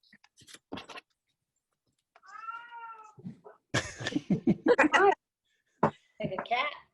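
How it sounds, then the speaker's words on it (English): A pet cat meows once in a drawn-out, rising and falling call, mid-distance, with people talking before and after it in a quiet indoor room. "that's my cat again."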